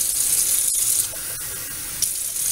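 Tap water running steadily into a vessel for a Wiccan libation offering, a continuous close splashing stream with no voices.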